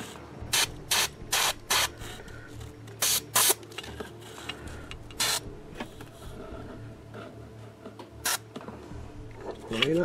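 Spray paint bursts onto a 3D printed barrier wall in short, sharp hissing blasts, about nine of them in irregular rhythm, close and loud, with quieter handling clicks and rattles between them.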